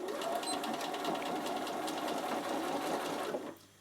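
A Bernina sewing machine back stitches across fabric for a half moon bag, a loud, rapid, close mechanical chatter running steadily before stopping abruptly near the end.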